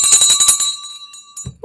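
A stock market closing bell rings in rapid repeated strikes with a sustained metallic ring that lingers and decays, loud and clear, followed by a faint noise.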